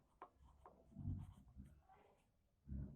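Pen or chalk writing numbers during a maths lesson: several short scratchy strokes with pauses between them, fairly quiet and close, no talk over them.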